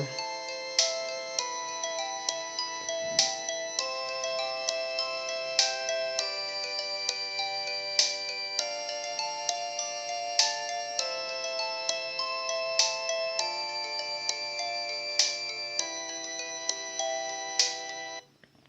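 Mobile game music from an LG KG130 phone: a thin, beepy polyphonic tune of evenly spaced synthetic notes repeating steadily for about eighteen seconds at a soft level, with no voices.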